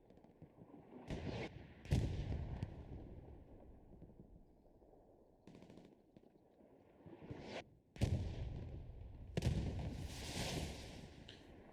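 Artillery rockets fire in a Hell Let Loose match as several booming bursts and rushing blasts, each fading into a long rumble. The sequence is fairly distant and moderately quiet.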